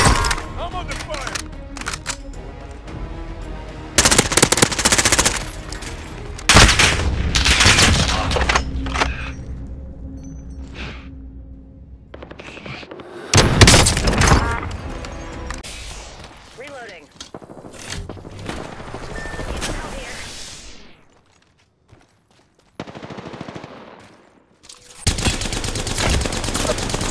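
Gunfire in a shooter video game, repeated loud bursts of shots and cracks between quieter gaps, mixed with game sound effects and talk.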